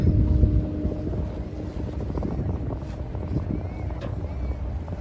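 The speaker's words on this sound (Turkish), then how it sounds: "Hurgada'da tekne turumuza çıktık" A tour boat on the sea at Hurghada, a steady engine drone with wind buffeting the microphone, loudest at the start and then settling into an even rumble, with no talk.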